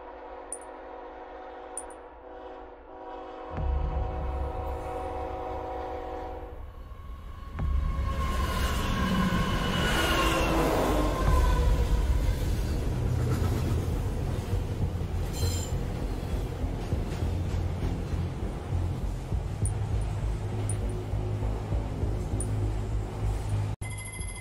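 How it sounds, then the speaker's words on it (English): A bullet train rumbles along in the VR game Bullet Train, building from quiet electronic tones into a steady rolling roar with squealing wheels and faint clicking rail joints, continuous and close. "This train is about to arrive at the incident site."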